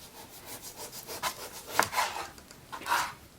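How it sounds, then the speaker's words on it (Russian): A knife saws through chicken breast fillet on a board in the kitchen, giving a run of short rasping strokes that come and go, close up and moderately loud, with no talking. "сначала режем это филе на кусочки"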